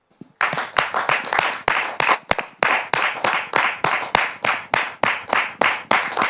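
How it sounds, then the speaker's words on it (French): A studio audience claps in unison to welcome a guest, a close, rhythmic burst of about twenty sharp hand claps at a steady beat after a brief quiet start. "sous vos applaudissements."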